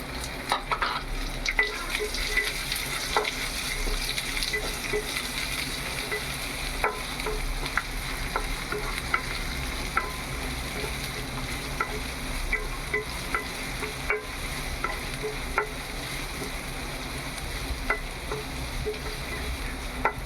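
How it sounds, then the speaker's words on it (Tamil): Onions, both big and small shallots, sautéing in a pan for palak paneer gravy, a steady close sizzle with repeated scrapes and clicks of a stirring spoon throughout, no voices. "வெங்காயம் ஓரளவுக்கு சிவப்புற அளவுக்கு நல்லா வதங்கட்டும்."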